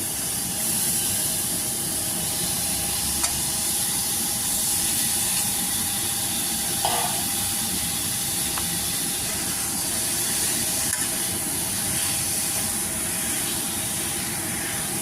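Duck meat frying and being stirred in a pan: a steady hiss and sizzle runs throughout, with a faint clink near the middle and no talk over it.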